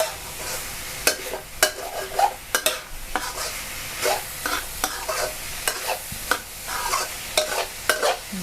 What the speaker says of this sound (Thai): ผัดพริกลงหมูสับ